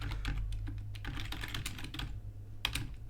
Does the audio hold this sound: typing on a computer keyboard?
yes